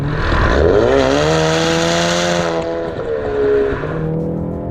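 A Ford Mustang EcoBoost's exhaust roars loudly as the engine downshifts, the pitch sliding and then settling into a deep rumble.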